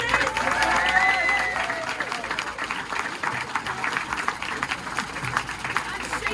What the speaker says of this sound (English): let's have a big round of applause for our ATPI aces